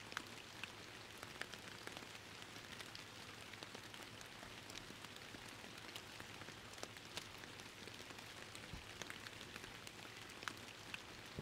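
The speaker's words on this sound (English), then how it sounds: "I just love the rain sound." Steady rainfall in the fishing video game Fishing Planet, a soft continuous patter of drops with occasional small splashes, faint and unbroken with no talk.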